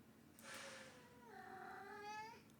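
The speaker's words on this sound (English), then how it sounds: "Meowing, bugging, just to mess around." A cat meows twice, each a drawn-out, whiny call with a rising then falling pitch, fairly close and clear with no talk over it.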